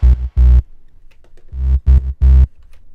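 Soloed low bass layer of a song mix in Ableton Live, loud deep sub notes in short punchy hits, two quick ones, a quieter sustained stretch, then three more strong pulses, without any talking.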